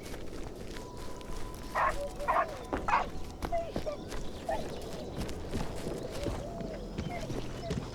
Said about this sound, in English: The sad puppy noises were actually vicious dogs that had canned food.